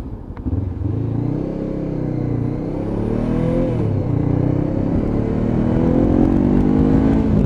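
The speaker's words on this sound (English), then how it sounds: "Torquey response of that CBR engine. Straight up to 60 again." A Honda CB500 motorcycle engine revs and pulls hard, its steady rising drone climbing through the gears as the bike accelerates up to speed, loud and close with no talk.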